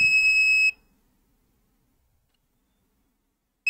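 An Arduino-driven buzzer on an FC-37/YL-83 rain sensor circuit gives a loud, steady high-pitched beep for under a second, then silence, then the tone starts again at the end.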